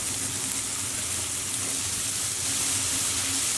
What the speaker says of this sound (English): all we want to do is fry our bacon until it's nice and brown and just a touch crispy